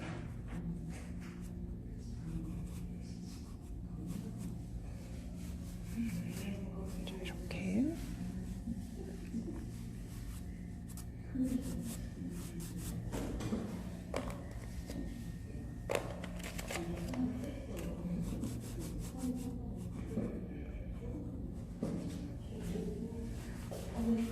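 Dry pastel is rubbed onto paper while coloring a quince drawing, making soft, repeated scratchy strokes that stay faint under steady speech throughout.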